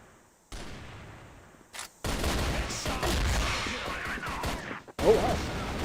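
Dense automatic gunfire from the CrossFire shooter game at a West League 2025 esports match, nearly continuous bursts after a short lull, with a sharp crack near the end.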